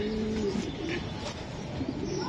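A pair of pigeons, one a very light-coloured English female, gives soft low coos close by against a quiet background.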